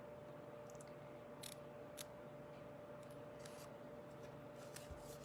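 Scissors snip through a paper banner by hand, faint scattered crisp cuts and rustles over a quiet steady room hum, no talking.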